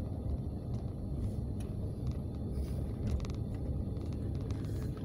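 A car rolls into the Atlanta State Farmers Market in Forest Park, with a steady low engine and road rumble heard from inside the cabin and no talking.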